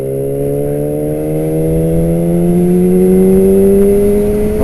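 A 2006 Yamaha YZF-R6 engine, loud and close, held on throttle with a steady whine whose pitch slowly climbs across the stretch.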